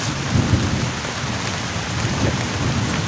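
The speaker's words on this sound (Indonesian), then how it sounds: "Sekarang tuh udah turun hujan" Heavy rain pouring steadily during a camping trip in a thunderstorm, with dense broadband hiss and low rumbling thunder underneath, loud and continuous with no talking.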